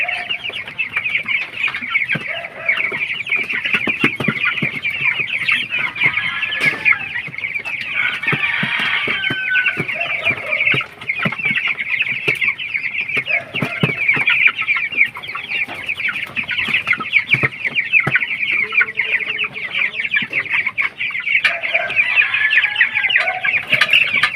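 Rhode Island chickens cluck continuously close by, a busy overlapping chorus of short clucks and calls with occasional louder squawks.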